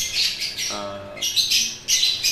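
Red eye mutation pet birds, a breeding pair, call in sharp, close chirps and squawks that come in short repeated bursts, with one lower buzzy note in the middle.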